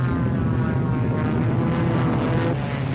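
A Supermarine Spitfire single-seat fighter flies with a loud, steady propeller and engine drone that stays constant and close throughout, with no voices.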